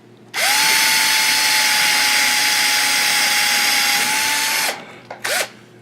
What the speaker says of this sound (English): put number 40 drill bit